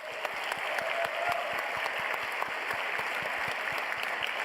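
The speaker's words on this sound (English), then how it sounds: "Can we get another round of applause for everyone here?" Sustained applause from the audience at the 27th DICE Awards ceremony, dense and even clapping from a large crowd filling the hall throughout.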